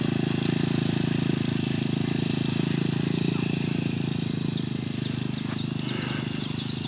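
A ProTork TR100F mini motorcycle engine runs steadily and close, a continuous buzzing drone that holds for the whole stretch, with birds chirping faintly in the background.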